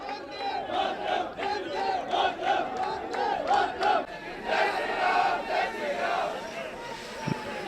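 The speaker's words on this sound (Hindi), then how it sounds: "लगातार भारतीय जनता पार्टी के कार्यकर्ता नारेबाजी कर रहे हैं।" BJP party workers shout political slogans in a crowd outside a municipal council office during a chairperson election, a loud continuous chant of many voices rising and falling in rhythmic bursts.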